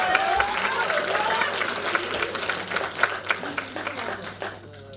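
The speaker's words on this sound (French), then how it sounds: "On applaudit tous la présidente." A room full of people applauds the president at an evening event, brisk, dense clapping with a few sharper claps standing out, holding loud before thinning slightly near the end while a faint voice rises.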